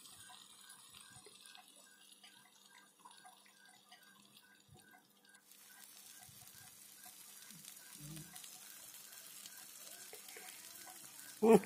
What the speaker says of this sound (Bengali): চালটাকে আমি ভালো করে মশলার সাথে ভালো করে মিশিয়ে নিচ্ছি। এটাকে ভালো করে ভেজে নিচ্ছি।